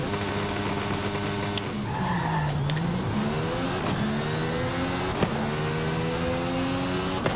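The Mercedes-AMG One hybrid hypercar launching and accelerating in Forza Horizon 5, the engine climbing through gear changes with a dip and recovery, a thin electric whine rising above, loud and steady throughout.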